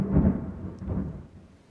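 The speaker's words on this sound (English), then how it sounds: "there's that storm that that dude was asking if I was getting" Thunder rumbles through a storm in the Elden Ring video game world, a low rolling boom that swells early and fades over a second or so, with no voices.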